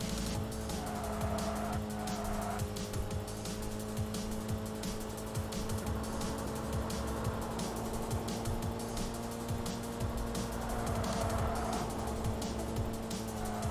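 Racing car engine in Tokyo Xtreme Racer 3 on a highway loop, a steady loud drone with sustained tonal whine and shifting pitch, continuous throughout with no talking.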